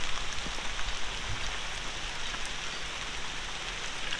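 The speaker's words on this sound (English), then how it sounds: "all of a sudden it started raining about the time this happened" Sudden rain falling on a driveway and pavement, a steady close hiss of drops with occasional louder spatters, continuous and alone throughout.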